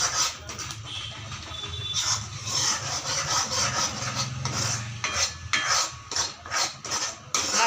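A spoon scrapes and stirs masala for gavran misal as it sautés in a pan, with close, repeated rubbing and clinking strokes in an irregular rhythm.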